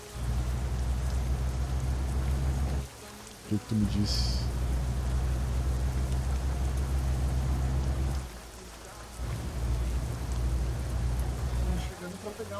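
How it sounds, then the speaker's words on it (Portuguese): Steady rain pours down in Euro Truck Simulator 2 as a constant loud hiss with a low rumble beneath, briefly cutting out twice while someone talks over it. "Deixa eu botar na outra visão pra tu ver a chuva"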